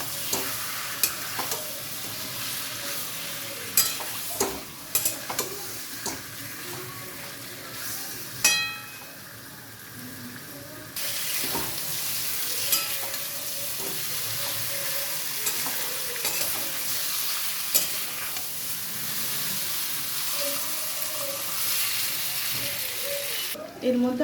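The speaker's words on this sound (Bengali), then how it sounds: "ম্যারিনেট করা চিকেনটা দিয়ে দেবো। এবার চিকেনটাকে ভালোভাবে নেড়ে নিচ্ছি।" Marinated chicken frying with onions in a pan while being stirred, giving a steady close sizzle broken by scraping strokes and occasional light clinks of the utensil against the pan.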